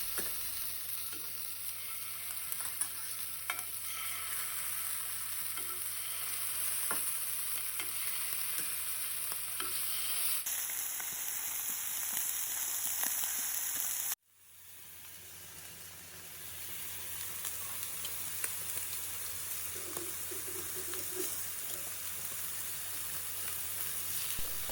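Scallops sear in a hot frying pan with a steady, loud sizzle that runs unbroken, drops out sharply for a moment, then swells back into continuous frying hiss.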